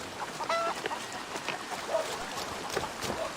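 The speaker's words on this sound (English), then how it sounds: "it really sounds like a lot of Thor's chickens" Chickens and other fowl in the Viking-era video game Assassin's Creed Valhalla make a busy commotion: several short, high, nasal calls pop out over a steady wash of ambient game noise.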